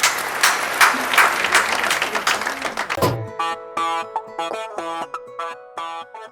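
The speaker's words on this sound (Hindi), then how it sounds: "जोरदार तालियां बजाकर अभिनंदन करें" Audience applause at a Hindi kavi sammelan poetry gathering, a loud burst of many hands clapping for about three seconds, then cut off abruptly as tonal music begins.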